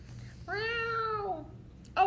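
A single drawn-out cat meow, clear and close, lasting about a second, followed by a brief noise near the end.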